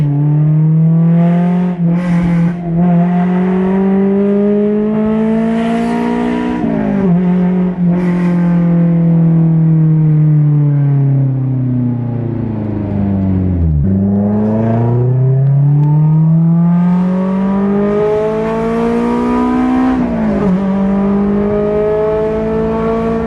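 A Honda S2000 fitted with a test pipe exhaust revs and accelerates loudly through repeated gear pulls, the engine pitch rising and dropping, heard up close and alone for over twenty seconds.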